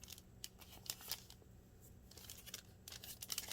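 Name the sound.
scissors cutting off bottom of envelope flap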